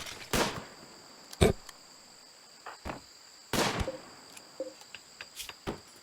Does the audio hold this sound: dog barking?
no